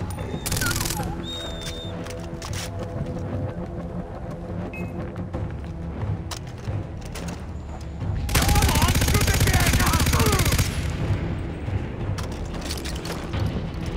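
Gunfire in Far Cry 3, with a dense burst of rapid automatic fire and clanking mechanical sounds, a heavy sustained volley late on, and a voice talking in the background.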